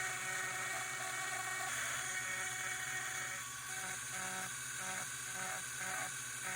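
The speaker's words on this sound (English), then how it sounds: "So I'm going to go back to the Dremel version." A Dremel rotary tool carves a wooden play-button plaque, giving a steady high whine that holds throughout with slight dips as the bit bites into the wood.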